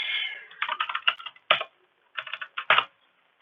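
Quick bursts of key clicks on a computer keyboard while code is typed, close and clear, separated by short pauses, with no talking.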